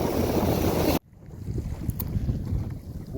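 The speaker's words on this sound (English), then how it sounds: "that northwest wind just picked up" Northwest wind gusts buffet a small boat out on the water, a loud rushing roar that cuts off abruptly, then rises again as a dense, steady blustery rumble, close to the microphone with no talk.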